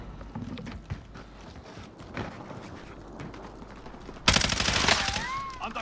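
Video game gunfire: a sudden loud burst of shots erupting near the end after a stretch of quieter game noise with faint hoofbeats, continuing dense and close.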